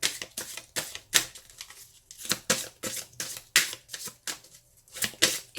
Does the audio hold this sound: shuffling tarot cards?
yes